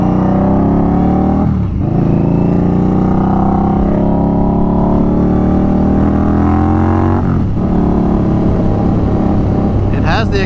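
A loud 2019 custom Indian Scout Bobber motorcycle engine revs and pulls hard, rising harmonic roar climbing through gears with brief dips at shifts, close and continuous throughout.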